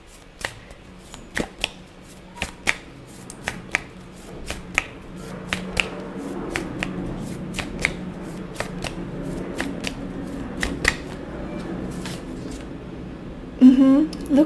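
Tarot cards are shuffled close by in a run of crisp, riffling bursts and soft slaps that come in irregular clusters, with a faint voice murmuring underneath.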